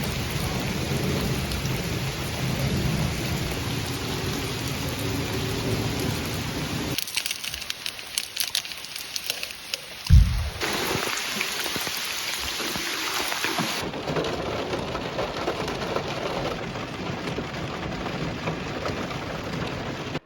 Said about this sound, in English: I enjoy listening to the rain.